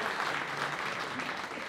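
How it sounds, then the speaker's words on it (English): Crowd applause at a boxing press conference for Tyson Fury and Francis Ngannou, a steady dense wash of clapping that stays moderately loud for the brief moment heard. "Let's get a round of applause."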